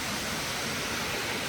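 The waterfall at Canyon Falls in Michigan's Upper Peninsula roars in a steady, full, unbroken rush of falling water, close and loud throughout.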